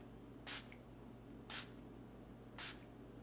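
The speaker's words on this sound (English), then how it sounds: "I'm kind of like spraying a misty water on my face, like just misting water" Three short hissing sprays of facial mist water from a mist bottle, evenly spaced about a second apart, fairly quiet against a faint steady hum.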